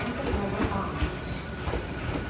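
A Hakone Tozan Railway train arriving at Gora Station rumbles and clatters close by, with a thin high wheel squeal ringing over the steady rolling noise.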